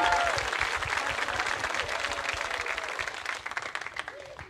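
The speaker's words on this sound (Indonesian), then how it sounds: "Tepuk tangannya dulu dong" Inside an idol group's theater show, an audience claps in a thick, lively burst while voices call and cheer over the applause, the clapping growing choppier near the end.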